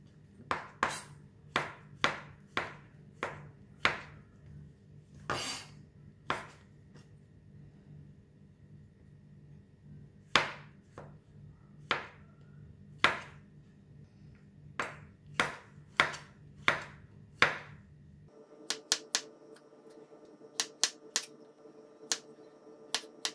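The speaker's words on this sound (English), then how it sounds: "This mushroom is washed and now we are cutting it into thick slices." A knife slicing a washed mushroom into thick slices on a board, heard as a series of crisp, close chops in an uneven rhythm, over a dozen strokes, with no talk.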